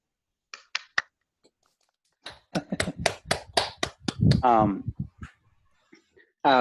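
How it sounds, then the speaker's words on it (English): Over a video call, a few unmuted participants clap in scattered, sparse bursts, separated by silences, with some speech cutting in briefly. "please unmute and let's give Jangwon a round of applause"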